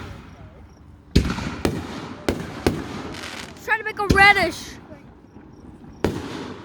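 A fireworks show goes off with sharp, spaced bangs, some near and loud, one burst followed by crackling whistles. A person talks between the blasts.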